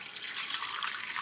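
Water is poured into a pot of cooked rice and chopped apple, a steady close splashing trickle lasting about a second with no talk.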